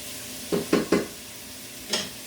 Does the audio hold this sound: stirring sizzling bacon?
yes